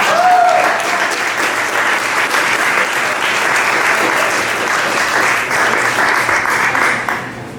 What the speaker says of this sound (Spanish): Yo creo que se aplaude ahora también.